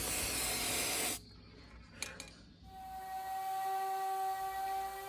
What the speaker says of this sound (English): I'm going to be updating them by spray painting them.